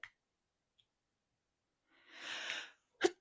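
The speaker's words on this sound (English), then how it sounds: "Excuse me, I had to sneeze." A single close, fairly quiet sneeze bursts out after near silence, followed by a sharp click or breath at the end.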